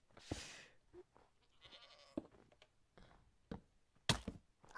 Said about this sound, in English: This goat is so angry.